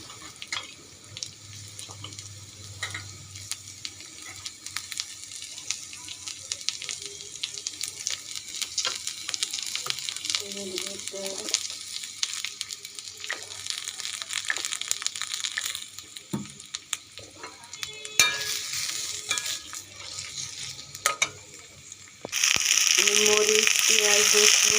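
Onion, garlic and chili fry in a wok with a low, uneven sizzle and scattered clinks and scrapes, broken up by a running tap that gushes loudly near the end; no voices.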